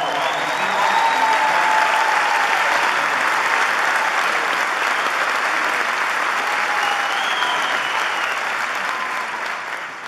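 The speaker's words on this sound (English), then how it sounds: "give yourselves a big round of applause" Audience at a tribute band concert giving loud, sustained applause, a thick continuous roar of clapping with faint cheers and whistles woven through.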